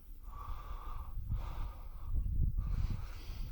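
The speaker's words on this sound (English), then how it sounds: "Sorry for my heavy breathing as well." Heavy, laboured breathing from someone hiking uphill on an exposed, windy hillside at the Devil's Jumps, with rhythmic snorting breaths close to the microphone over constant wind rumble.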